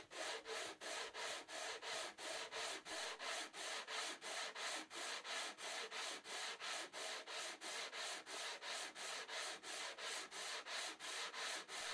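Segmented wood-turning rings being sanded by hand: a steady back-and-forth rasp repeating about twice a second, close and continuous for the whole stretch with no talking.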